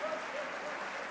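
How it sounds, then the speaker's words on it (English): Audience applause at the Atlanta State of the City address, a steady wash of clapping from a large hall crowd with a faint background murmur throughout. "We can clap for affordable housing."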